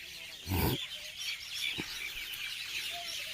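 Outdoor ambience with a loud clucking call from a nearby fowl, a short second call and faint chirping birds in the background.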